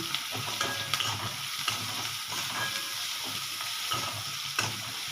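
Onion sizzles steadily in hot oil with salt, browning for upma, with occasional scraping stirs of a spatula against the pan; no talking.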